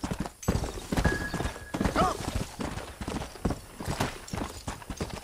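Horse hooves in the Western video game Red Dead Redemption, a rapid rhythmic clip-clop with a short neigh, close and steady, as a person talks over it.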